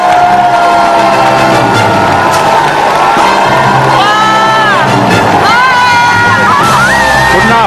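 Studio audience on a Korean variety show cheering and applauding loudly and continuously, with whoops and yells over the crowd roar and music playing underneath throughout.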